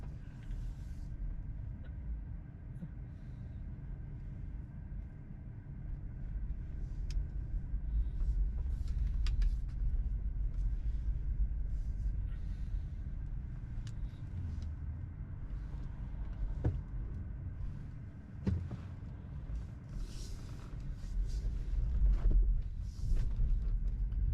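A Tesla car reverses out of a home garage and drives off, giving a low, steady rumble of tyres and motion that swells gently at times, with no talk over it.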